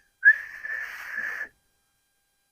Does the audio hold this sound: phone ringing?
no